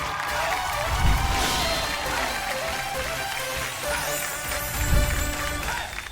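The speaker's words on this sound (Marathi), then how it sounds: "एकदा जोरदार टाळ्या होऊन जाऊ देत" A studio audience at a Marathi women's game show breaks into sustained applause with cheering, the clapping staying dense and steady throughout, swelling briefly near the start and again toward the end.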